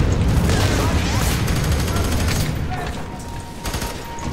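Gunfire in the video game FEAR 3 rattles as dense automatic bursts over heavy game noise, loud at first and then thinning out, with a voice briefly audible underneath.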